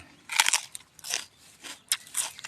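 Crunchy chili peppers are bitten and chewed close up, a few crisp sharp crunches followed by softer wet chewing in an uneven rhythm, with no talking.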